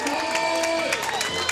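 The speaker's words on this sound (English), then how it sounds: "Crowd's getting excited." Crowd cheering and applauding at a mixed doubles pickleball match at the Cincinnati Open, a steady mass of cheers and claps with some voices and music playing over it.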